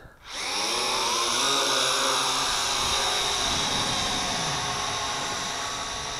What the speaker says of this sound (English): So let's go for an aerial video flight with the Syma X8C.